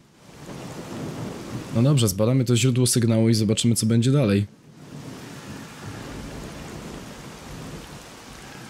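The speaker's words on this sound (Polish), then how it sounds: "Ta burza." A rainy thunderstorm rumbles in the video game S.T.A.L.K.E.R.: Call of Pripyat as a steady, hissing wash of rain and low roll, with someone talking over it for a few seconds before it continues alone.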